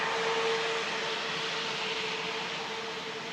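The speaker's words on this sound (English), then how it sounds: "Jet2 75 just entering the active now." A Jet2 Boeing 757 rolls onto the active runway at Manchester Airport, its engines giving a steady, distant broadband roar with a faint high whine, constant and unbroken, with no one talking.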